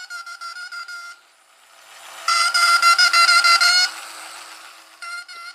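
A Schuco tin toy alarm car from the 1960s sounds its alarm close by, a bright, rapid, buzzy bell-like warble that runs in short bursts, pauses, then returns louder before a final brief burst.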